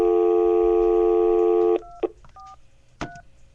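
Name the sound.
telephone dialing tones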